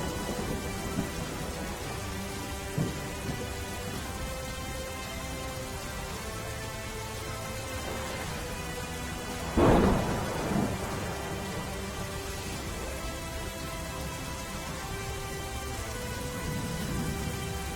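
Heavy monsoon rain pours steadily over city streets in Gujarat, with one loud thunderclap rumbling through the middle of the constant downpour.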